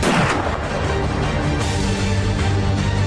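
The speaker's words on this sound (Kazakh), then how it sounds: "Атыс дауысын естіген жағдайда ол бағытта жүруді доғарып" Loud, continuous gunfire forms a dense, booming barrage that holds steady for the whole stretch with no pauses and no voices.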